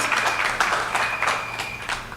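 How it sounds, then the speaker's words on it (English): A small audience at a live St Augustine community event claps for a job well done, a brief burst of loose, uneven hand claps with distinct individual strikes close by. "give them a round of applause for a job well done tonight"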